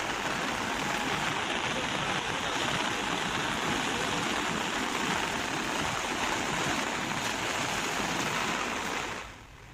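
Loud, steady roar of the flooding Vira river near Shamlaji, Gujarat, after heavy monsoon rain, a continuous broadband wash of churning flow that fades slightly at the very end.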